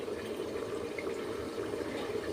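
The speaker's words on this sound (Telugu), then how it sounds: "బిర్యానీ కొంచెం కలర్ఫుల్గా కనిపించడానికి పసుపు వాటర్ని వేస్తున్నానండి" Turmeric-tinted water trickles gently over fish biryani in a cooking pot, a soft, steady pouring wash heard alone at low volume.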